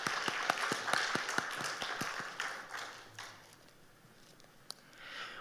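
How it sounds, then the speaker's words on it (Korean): Congregation clapping in encouragement at a Korean church's early-morning service after a special song, a brief burst of rhythmic, fairly close claps that thins out after about three seconds, with a few stray claps after. "다시 한번 힘내시라고 격려의 박수 한 번 더 하시겠습니다."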